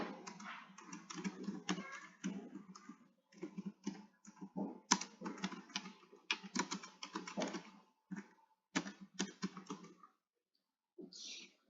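Rapid bursts of keystrokes as a title is typed into a computer keyboard, close and crisp, in quick runs broken by short pauses before trailing off near the end.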